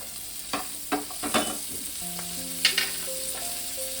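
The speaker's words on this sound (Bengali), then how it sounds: "পেঁয়াজ কালিটা দিয়ে আবারও আমি একটু ভালো করে ভেজে নেব" Chopped onion and onion flower stalks fry in a pan for a fish curry, a steady sizzle broken by a few sharp stirring scrapes. Faint tonal sounds hum in the background.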